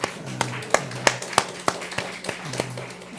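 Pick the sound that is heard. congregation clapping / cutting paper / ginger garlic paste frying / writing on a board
congregation clapping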